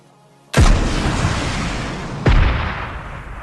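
Two heavy RPG blasts in PUBG Mobile Lite gameplay, each a sudden loud boom that rolls into a long rumbling decay, the second hitting about two seconds after the first.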